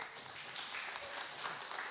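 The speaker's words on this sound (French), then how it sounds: "Applaudissements" Applause from a studio audience on a French sailing talk show about Golden Globe Race skippers, a soft, steady patter of clapping, fairly faint and distant, running evenly throughout without voices.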